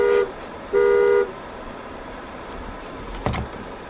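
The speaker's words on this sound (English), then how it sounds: "Why would you make the horn honk?" A Volvo S90 car horn honks twice, a short toot then a longer one, loud and close, followed later by a dull thump like a closing door.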